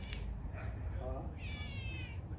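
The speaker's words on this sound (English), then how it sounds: "You can hear the cat meowing." A cat meows a few times, close by, short rising calls spaced over a couple of seconds against a low background hum.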